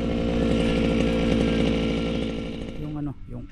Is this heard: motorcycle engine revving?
no